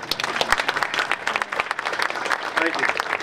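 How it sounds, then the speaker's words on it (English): A Memorial Day parade gathering applauds itself with a lively burst of close, crisp clapping, and voices can be heard mixed into the clapping. "So everyone here should give themselves an applause."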